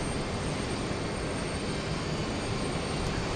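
Frontier Airbus A320neo jet climbing away on departure from Houston Intercontinental, a steady broadband engine roar held at even loudness throughout, moderately distant with no voices.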